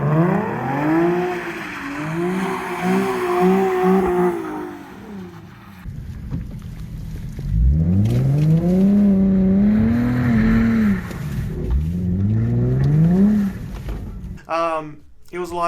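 Nissan 370Z engine revving hard as the car slides, its pitch rising and falling in long sweeps, loud and close, with a brief burst of higher revs at the end.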